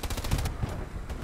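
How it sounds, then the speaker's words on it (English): Machine gun fire in the World War II shooter Hell Let Loose, a rapid burst of close, loud shots that stops abruptly and leaves a short rumbling tail. "I had to get him with the MG."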